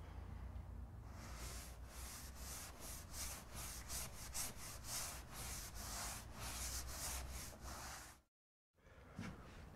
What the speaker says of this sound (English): To do that, I'm going to use a damp sponge, wipe the area smooth